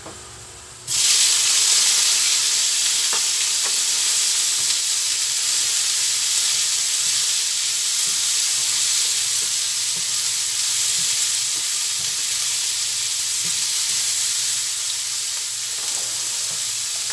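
Tofu, carrot and red chili hit a hot pan and fry with an abrupt, loud, close sizzle that settles into a continuous hiss, with faint stirring clicks and no talking.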